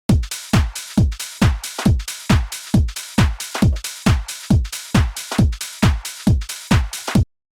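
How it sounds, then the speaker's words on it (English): A punchy drum loop with a steady, evenly spaced kick-driven beat repeating about every half second, loud and dry, no voices. "this is the drum loop that I found on Splice"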